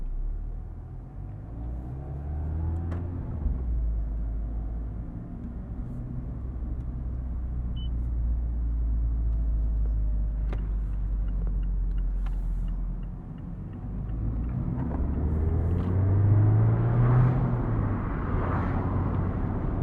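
A 2023 Mazda MX-5 Miata ND2 roadster cruises a backroad with the roof down, its engine a steady low rumble under constant road and wind noise, rising slightly near the end.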